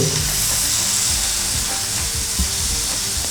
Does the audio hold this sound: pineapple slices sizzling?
yes